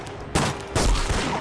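Two loud bursts of close gunfire from the World War II shooter game Medal of Honor, a sharp crack followed a moment later by a second heavier volley.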